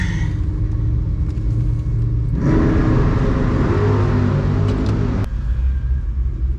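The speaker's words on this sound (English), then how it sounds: "I guess guy decided he didn't get a good enough burnout. He's gonna do another one." A drag car doing a burnout at a racetrack at night: the loud engine roars at high revs for a few seconds with a rough rumbling texture, then drops back to a deep idle.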